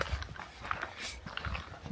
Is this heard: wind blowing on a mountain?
no